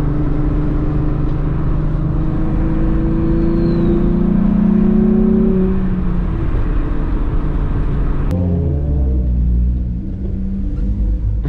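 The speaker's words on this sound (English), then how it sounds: "And of course, you know, just some Vr6 sounds." A Mk3 Jetta VR6 car engine driving, a loud, deep rumble that rises and falls as it revs through gears on a road drive, shifting pitch around the middle and settling near the end.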